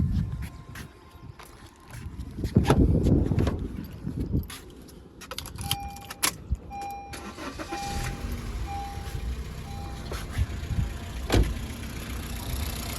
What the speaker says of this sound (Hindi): तो उसके लिए मैं गाड़ी एक बार स्टार्ट कर देता हूँ